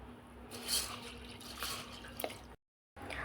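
Water splashes and trickles as lentils are swished and rinsed in a container, with a brief silent pause before the sloshing resumes.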